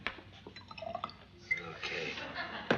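Water is poured into a glass of drink, with splashing and dripping under talk; a brief clink of glass near the end.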